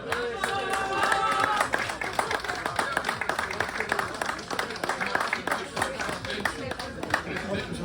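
Crowd applause at a winter mountain bike marathon award ceremony in Otwock, Poland, with loud, sustained clapping from many people close by, mixed with cheers and someone speaking over it through a PA.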